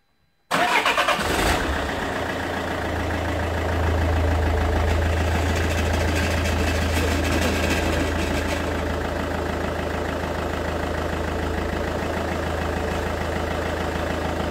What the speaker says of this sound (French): On va mettre en route le véhicule tout de suite.